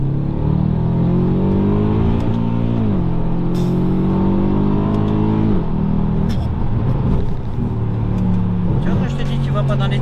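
A Mercedes C63 AMG W204 engine howls loud and steady as the car accelerates and slides sideways in a drift, its pitch climbing, dropping and climbing again as someone talks excitedly over it.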